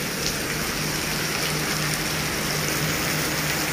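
Heavy rain falls steadily near a farm area, a dense, continuous hiss of downpour and gushing water, close and loud with no pauses.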